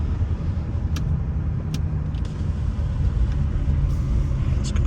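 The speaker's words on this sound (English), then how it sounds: "Hope you guys can hear some of the exhaust right now." A Stage 2 Mercedes C63 on the move gives a steady low exhaust rumble mixed with road and wind noise from inside the car, constant and fairly loud, with no talking.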